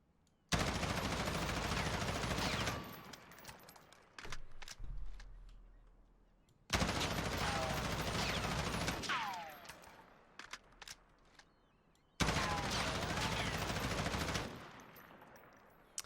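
M4 Corvus rifle in the video game Warzone firing three long full-auto bursts, each a dense rapid rattle of shots ending abruptly, with shell-casing tinkles and quiet gaps in between.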